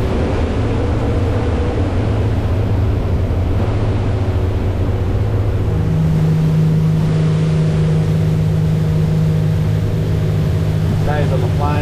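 A loud, steady engine of a Yellowfin 7000 Centre Cabin motorboat drones throughout with rushing water, its pitch rising slightly midway as the boat holds a turn on the plane just below half trim; speech is faint underneath.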